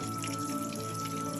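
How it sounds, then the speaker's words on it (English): Water is poured into a pot of pilau rice, giving a short steady close splash and gurgle with no talk. "At this point, we add the water."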